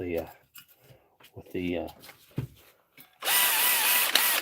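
After a stretch of talking, a power screwdriver drives screws during workshop repair work, giving a sudden close, loud whirring burst of about a second that ends the clip.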